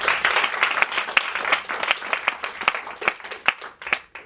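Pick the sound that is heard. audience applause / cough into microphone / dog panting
audience applause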